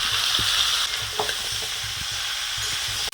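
Pumpkin pieces and potatoes fry in a pan with salt and turmeric for pumpkin chakka, a steady close hiss with soft scrapes of stirring scattered throughout, no voices.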